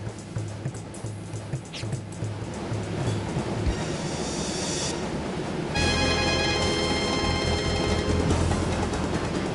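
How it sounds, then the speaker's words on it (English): A train rolls along rails in the Wild Arms 3 video game, a steady loud rumble with rhythmic wheel clatter at first, then swelling with bright metallic screeching and squealing that carries on to the end. "Wow, they jumped onto another train."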